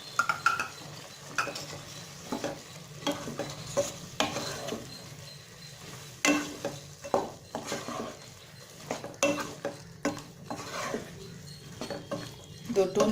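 Green peas and cauliflower stirred in a pan for a kurma, with a spoon scraping and clinking against the metal in irregular bursts over a low steady sizzle of frying, close and fairly loud.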